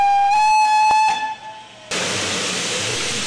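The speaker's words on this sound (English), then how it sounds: "The whistles blow and we're off up the line." A steam locomotive whistle on a heritage railway sounds loud and close as a steady, harmonic blast lasting about a second and a half, then fades. A broad burst of steam hissing follows and continues to the end.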